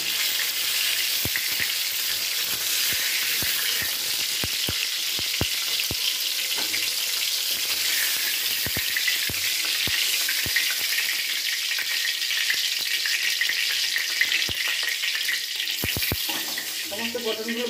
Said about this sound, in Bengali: কিছুক্ষণের জন্য পটলগুলোকে আমি ভাজতে দিয়েছিলাম।